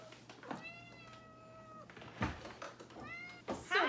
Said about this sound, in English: I want to show you my cat.